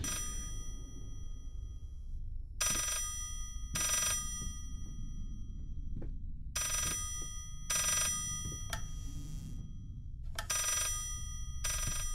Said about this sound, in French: ce téléphone qui prend la tête, oh là là, c'est horrible